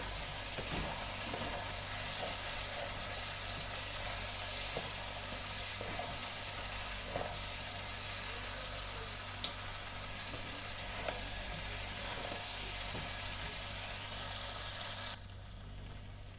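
Potatoes with small pieces of bay leaf stirred and frying in a pan for a potato and bitter gourd dish, a steady soft sizzle with scattered scraping taps of the spoon, close and alone.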